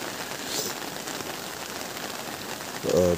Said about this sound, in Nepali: यसरी लगातार परिरहेको वर्षाले